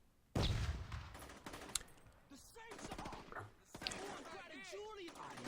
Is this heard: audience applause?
no